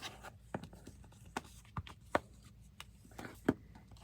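Paper folded by hand into diagonal pockets, giving a few soft, scattered creases and rubs with several sharper crackles, close and quiet with no talking.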